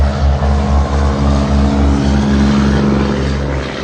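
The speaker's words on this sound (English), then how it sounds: "Yeah, that truck was loud as hell." A loud truck passing close by, a heavy rumbling engine drone with a pulsing low throb that holds strong for several seconds before easing slightly.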